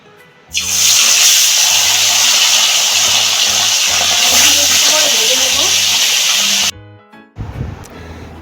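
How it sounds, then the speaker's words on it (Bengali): A loud, steady sizzling hiss of pomfret frying in hot white oil that runs for several seconds, then cuts off abruptly, leaving a quieter clatter. "মাছটা আমি সাদা তেলে ভাজবো এখন আমি মাছ দিয়ে দিচ্ছি"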